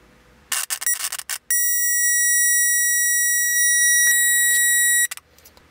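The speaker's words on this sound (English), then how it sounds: "I also turn on the audible speaker so you can hear it go off." A power probe's audible speaker beeps on a car stereo's power line, sending out a steady, piercing high-pitched tone for several seconds between brief clicks and handling noises.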